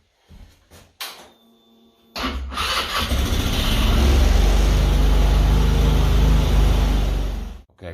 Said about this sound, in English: And we'll start the engine up and let it run for a few minutes